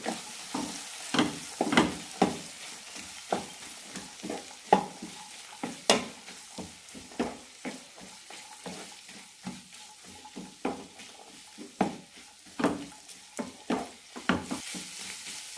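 Cooked peas, soya chunks and masala stirred in a sizzling pan: a low steady fry under repeated scraping strokes of a spoon, close and moderately loud, continuing throughout with no talk.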